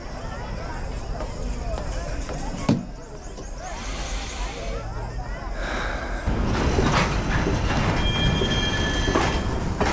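A train with squealing wheels rumbles steadily through a station, loud and continuous, growing slightly louder near the end, with people talking over it.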